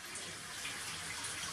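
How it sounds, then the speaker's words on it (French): Water constantly running in a toilet cistern that won't shut off, a steady close hiss and trickle, unbroken and alone in a holiday rental bathroom in the Camargue. "la chasse d'eau ne se ferme pas, elle est constamment en train de couler."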